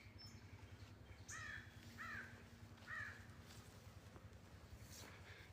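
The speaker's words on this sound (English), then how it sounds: "Here's a crow out there." Outdoors near a lakeside dock, a crow caws three times in a steady, evenly spaced series, clear but somewhat distant, over a constant low hum.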